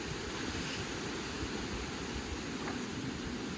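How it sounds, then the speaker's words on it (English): A waterfall sound effect plays during a children's story, a steady broadband rushing roar of falling water that stays even and fairly soft throughout, with no talking. "The waterfall."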